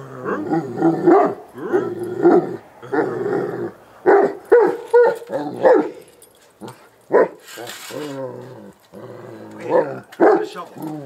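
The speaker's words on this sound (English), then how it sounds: "You're a silly dog, Doug." A dog named Doug barks and whimpers in short, repeated bursts of whiny yelps and low growly sounds, loud and close, with brief pauses between outbursts.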